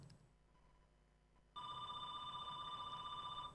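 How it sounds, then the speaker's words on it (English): A telephone bell rings loudly and steadily from about halfway through, after a quiet stretch of room tone, with no one talking. "we have a phone ringing"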